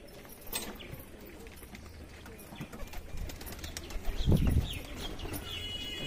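Domestic roller pigeons (giribaz) feed on scattered paddy in a home loft, giving soft coos and a short burst of flapping wings close by over a busy rustling background.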